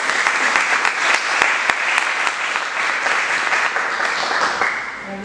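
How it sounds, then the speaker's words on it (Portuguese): A church congregation applauds during a service, a dense, sustained burst of many hands clapping together that fills the room and continues steadily with no voices on top. "Palmas que exaltam Jesus."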